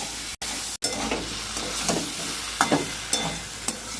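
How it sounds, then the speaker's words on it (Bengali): Curry of pointed gourd and soybean sizzling and frying in a pan, a steady close hiss with occasional stirring scrapes and brief pops throughout. "আজকে এই দেখো পটল দিয়ে সোয়াবিন দিয়ে তরকারি করছি"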